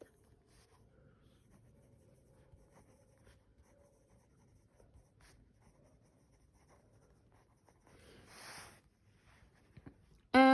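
A pen scratches faintly across paper in a quiet room. The soft, intermittent writing strokes are barely above the background, and a brief louder rustle and a sharp noise come near the end.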